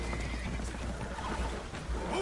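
Spooked horses neigh and whinny aboard a boat taking on water in Red Dead Redemption 2, with loud, shrill cries over hoof clatter and a steady background rumble.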